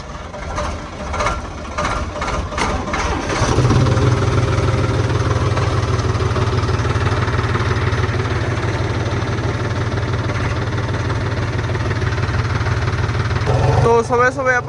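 A tractor engine runs steadily at close range, with a reaper hitched for the wheat harvest, its low rumble and vibration starting after a few seconds and droning on continuously.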